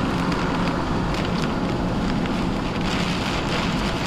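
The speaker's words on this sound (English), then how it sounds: "Well, it's raining" Heavy rain beating steadily on a truck during a hailstorm, with a dense, loud, continuous patter and no one speaking.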